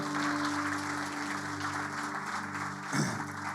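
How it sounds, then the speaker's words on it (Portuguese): A church congregation applauds steadily and evenly throughout, a dense wash of many hands filling the space with no talking. "Você pode aplaudir a Jesus?"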